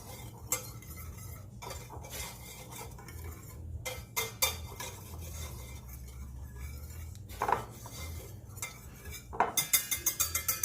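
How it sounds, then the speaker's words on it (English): Whisk beating ingredients in a bowl in a home kitchen while preparing fried ribs, faint scattered scraping and clinking against the bowl that turns into a quick run of rhythmic metallic taps at the end, under a low steady hum. "Okay, I got my whisk. So I'm just mixing all this together."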